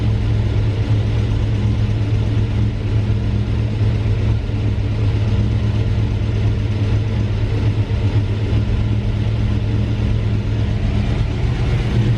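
A carbureted car engine idling at warm idle after carburetor tuning, a steady low rumble with a constant hum that holds evenly and loud throughout, with no speech.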